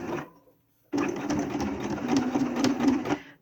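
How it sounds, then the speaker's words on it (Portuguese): Sewing machine stitching bias binding around a curve, a short burst of talk and then a pause before a steady, close, rapid whirring run of stitches lasting a couple of seconds. "Então, aqui eu vou começar a costurar."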